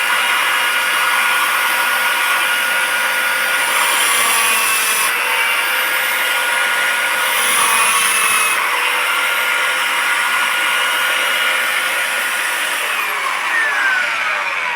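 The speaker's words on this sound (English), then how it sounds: "Now, of course, we're using a belt sander." A belt sander grinds steadily against a wooden boomerang, a loud continuous abrasive whir with slight shifts in pitch as the workpiece is pressed and moved, running the whole time with no talk.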